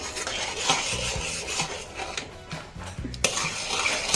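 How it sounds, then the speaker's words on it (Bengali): Milk is stirred in a pan while it thickens for Deoghar-style doodh peda, giving repeated close scraping and knocking of a utensil against the metal, irregular and fairly loud. "নেড়ে চেড়ে আমি ভালোভাবে ঘন করে নেব"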